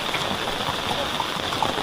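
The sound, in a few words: rain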